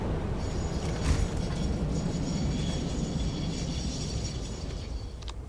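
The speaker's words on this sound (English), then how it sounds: "I've just saw a train coming in then" A train rolling into a station in the factory-building game Satisfactory, a steady mechanical rumble and rail hum with a brief metallic screech near the start, loud and continuous with no talking.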